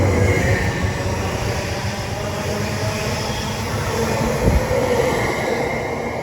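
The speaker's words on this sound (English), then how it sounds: "Now departing is the slightly delayed 1425 Great Anchor service to Norwich." Passenger train pulling out of Cambridge North station bound for Norwich, a steady loud low rumble of wheels and engine throughout, with a brief thump partway through and no voices.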